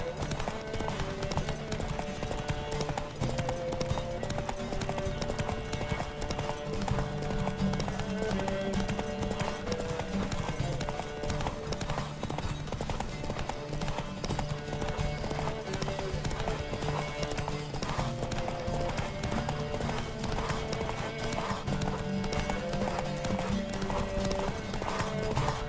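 Horse hooves clip-clopping at a steady galloping rhythm in The Witcher 3 video game, loud and continuous under layered in-game music, with a brief whinny possible.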